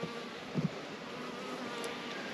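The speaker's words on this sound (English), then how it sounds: "There's a few bees here in the top" Honeybees hum in a hive in a dense, continuous drone, quiet and steady, with a couple of soft knocks early on.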